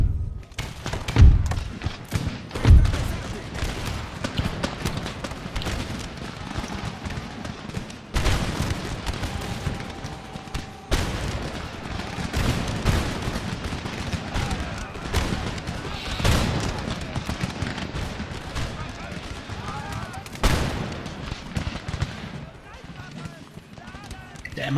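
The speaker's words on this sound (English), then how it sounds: "Let's use the artillery here because they're actually starting to fire on me." Artillery cannon and musket volleys in the Empire: Total War battle game, with heavy booms, thuds and crackling fusillades repeating throughout the clip and dense rumbling battle noise between them.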